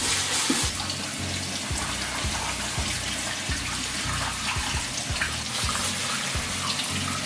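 Meat for menudo being rinsed under a steady, loud stream of tap water, with the continuous gush filling the sink and small splashes and clunks of handling throughout, no talking.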